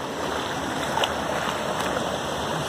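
Steady broadband rush of a waterfall and stream flowing in Jaguariaíva, Paraná, a continuous even wash of water without pauses and no voices.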